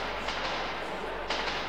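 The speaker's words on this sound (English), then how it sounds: "Ghost train." A ghost train rushes through a metro tunnel in the video game Metro 2033, a steady broadband rumbling roar with a couple of sharper clattering bursts, loud and continuous throughout.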